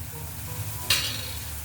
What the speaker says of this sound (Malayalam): സവാളയും പച്ചമുളകും എല്ലാം ഒന്ന് നന്നായിട്ടൊന്ന് വഴന്ന് വരട്ടെ. അതുവരെ നമുക്ക് ഇളക്കി കൊണ്ടുവരാം.